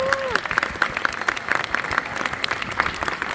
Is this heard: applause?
yes